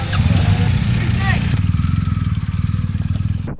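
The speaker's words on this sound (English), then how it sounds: "they've disconnected the throttle from the engine, so you can't rev, you're just idling" Motorcycle engine idling with its throttle disconnected so it cannot rev, during a track challenge at the 2024 GS Trophy UK qualifier, a loud, close, steady low chugging pulse throughout, with some speech over it early on.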